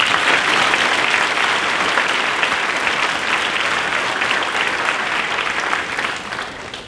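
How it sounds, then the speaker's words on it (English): A school prizegiving audience gives a steady round of applause for departing staff, dense and even clapping that continues throughout before fading slightly at the close. "Perhaps we can just give them a round of applause at this time."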